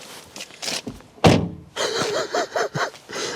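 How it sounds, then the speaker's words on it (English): Rear door of a Renault Twingo ZE electric city car shutting with a single solid, close thunk, with quieter handling noises before it and faint tonal sounds after. "I love the sound of this door here in the back."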